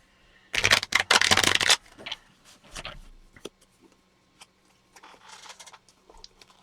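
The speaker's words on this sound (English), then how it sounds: "I'm going to have to take a short break here to shuffle." Playing cards for an APBA Soccer tabletop game being shuffled, a loud close riffle lasting about a second, followed by softer scattered taps and card handling in a quiet room.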